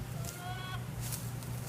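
Backyard chickens cluck faintly in a very hot garden, a brief burst of short calls over a steady low hum, with no talk.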